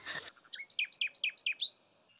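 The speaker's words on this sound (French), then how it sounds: "Insensibles au chant des oiseaux" Countryside birds sing a quick run of about eight bright, repeated chirps after a brief noisy burst, fairly close and clear over a quiet background, with no talking.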